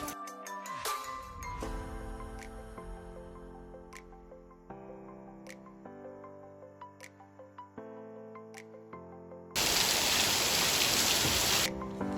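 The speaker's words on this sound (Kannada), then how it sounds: "ಮಳೆ ಮಾತ್ರ ಸಖತ್ ಹೆವಿ ಇತ್ತು" Heavy rain arrives as a loud, dense hiss for about two seconds near the end, after quieter tinkling tones.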